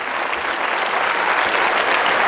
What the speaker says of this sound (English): All of this applause is for these guys.